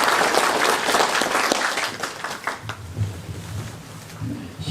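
Loud applause from the audience at the Nogunri Peace Prize award ceremony greets a speaker, dense clapping at the start that gradually thins and fades, with low murmuring underneath toward the end.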